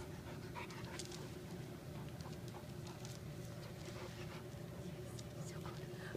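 A Terrier Pit Bull dog pants steadily and close by, a continuous rapid breathy huffing that runs through the whole stretch with no talk over it.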